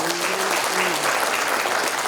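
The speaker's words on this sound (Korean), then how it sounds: "다시 한번 큰 박수 부탁드리겠습니다" Applause fills a Korean book launch event hall, many hands clapping in a thick sustained patter while a faint tonal hum or voice drifts underneath early on.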